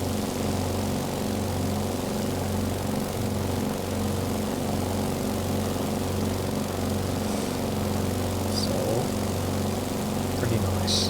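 A Beechcraft 17 biplane's propeller engine drones steadily in flight in Flight Simulator 2020, a constant even hum with a voice talking over it.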